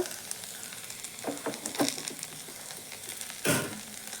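Vegetables sautéing in a pan, a steady soft sizzle with a few louder bursts of stirring and scraping near the middle and a sharp crackling flare toward the end, with no voices.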